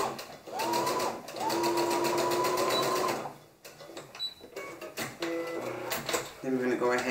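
A sewing machine stitching a shoulder seam, a loud sustained whirring run followed by shorter starts and stops, with a person talking over the pauses.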